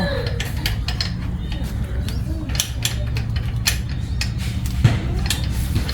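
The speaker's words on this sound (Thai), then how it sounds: "แล้วเราก็หันน็อตตรงนี้ให้แน่น" Metal clinks and creaks as a nut is tightened with a wrench during assembly of a BMX bicycle, soft mechanical clicks scattered over a steady low hum, with a sharp tap near the end.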